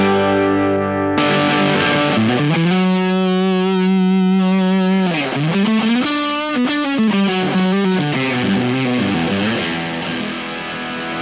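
Fano Omnis MG6 electric guitar played through heavy fuzz and space-style effects, sustained distorted notes with bending, wavering pitch and a thick chorus-like shimmer, loud and close with no talking.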